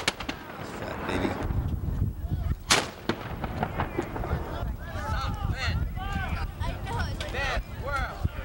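A cannon fires once with a sharp, loud boom at a wet outdoor firing, while people talk and shout before and after the blast.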